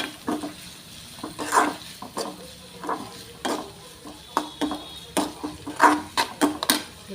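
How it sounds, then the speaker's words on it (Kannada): Green chili paste fries in a pan for a simple idli upma, with a steady close sizzle broken by repeated scraping strokes of a spoon stirring it, with no voices. "ಇದು ಹಸಿಮೆಣಸಿನ್ಕಾಯಿ ಪೇಸ್ಟ್ ಹಾಕ್ಕೊಂಡಿನಿ. ಅದನ್ನು ಸ್ವಲ್ಪ ಫ್ರೈ ಆಗಬೇಕು."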